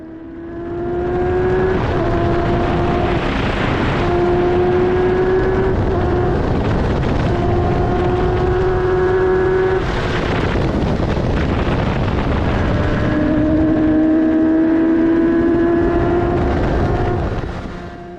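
F3 and F1000 single-seater racing cars at Donington Park, heard from onboard: a loud, sustained engine howl rising and falling through gear changes, with sharp shifts and revving surges across the lap.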